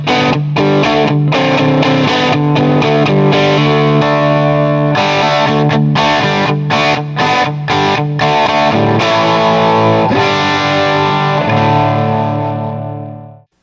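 An electric guitar played through a tube amp with a slightly gritty, just-breaking-up tone, loud chords and notes ringing out before fading at the end.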